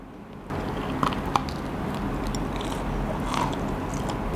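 Spicy fried chicken being bitten and chewed close up, with a couple of sharp crunchy bites early on and steady wet chewing and mouth noises after, no talking.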